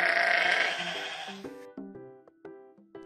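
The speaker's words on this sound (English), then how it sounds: "Sheep." A toy sheep gives a single electronic bleat with a wavering, buzzy tone, followed by a short run of stepped synthetic tones from the same toy, loud and close with no voices.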